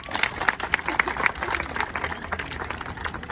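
Applause from a crowd gathered to honour a Bihar Home Guard selection candidate, a few seconds of moderate, steady clapping with scattered sharper claps, fairly close and loud.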